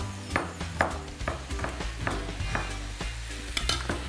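Chicken with spices sizzles and stews in a pan, a soft steady fry broken by repeated scraping strokes of a stirring utensil, fairly quiet and with no talking.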